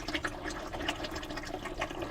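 Water pouring and splashing as it drains out of a 1957 Autocar truck, a steady continuous gush with no speech over it.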